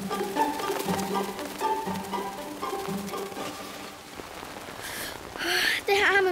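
Cartoon rain falling steadily as a soft, continuous patter under animated character voices speaking German, with a brief louder splash of sound near the end.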